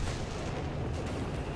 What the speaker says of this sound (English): nearly wipes the Grendo with the artillery